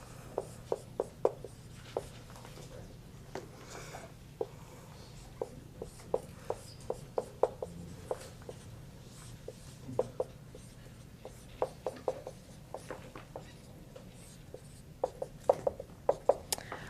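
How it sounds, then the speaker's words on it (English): Chalk or marker taps and scratches on a board during a math lecture on power series, sparse irregular strokes at low volume over a faint steady room hum, with no talking. "So I'm going to write it like this."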